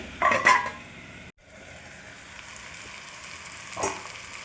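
Amaranth leaves seasoned with salt and chilli sizzling in a pan, with a burst of frying and stirring at the start, a brief dropout, then a steady low sizzle and another short stir near the end.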